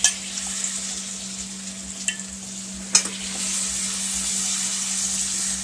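Washed potato pieces, each potato cut into three, sizzle steadily in hot tempering oil for a black peas curry, with a couple of sharp stirring clinks over the continuous frying hiss.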